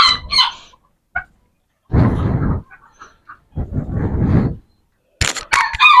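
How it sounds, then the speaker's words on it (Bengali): A Polish Cap rooster crows nearby in long, loud, broadband calls, with brief clucks and other fowl sounds between them and no speech. "আমাদের সব থেকে পছন্দের যে মুরগিটা হয় একটা পলিশ ক্যাপ"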